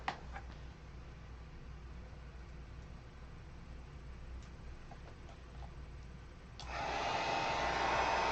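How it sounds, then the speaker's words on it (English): A heat gun switches on after a quiet stretch and blows a steady, broad airy rush that holds to the end, used during an oil painting session. "Heat gun."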